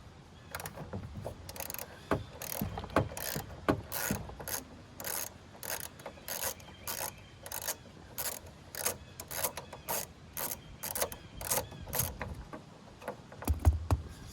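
A hand ratchet backs out a 10 mm bolt on a 1999–2006 Chevy Silverado door. Its quick, crisp clicks repeat steadily and close up for the whole stretch, with a few soft knocks mixed in and no talking.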